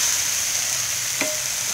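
Oil sizzles in a Lodge cast iron Dutch oven, a steady hissing crackle at moderate level with one brief sharper tap partway through.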